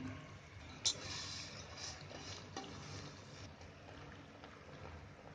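Roasted sesame seeds and other dry ingredients tipped into hot jaggery syrup in a pan over low gas and stirred, a steady close scraping and bubbling texture with one sharp clatter near the start.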